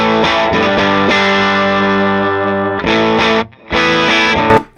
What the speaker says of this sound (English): here's the guitar straight in to the matchless with the time bass